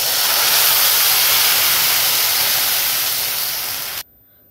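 A glass of water is poured into a hot pan of roasted mixture, which erupts into a loud, steady steaming hiss and sizzle that fades slightly for about four seconds before cutting off abruptly.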